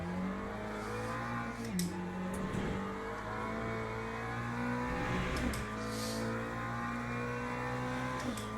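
A race car engine in a racing video game drones steadily throughout, revving and shifting pitch with a couple of dips as gears change, loud and continuous with no talking.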